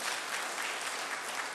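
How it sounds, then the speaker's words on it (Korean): A congregation at a Korean Presbyterian church's Sunday worship service in New Jersey claps in a dense, even wash of applause, moderately distant and unbroken throughout. "우리 박수로 한번 격려하시겠습니다"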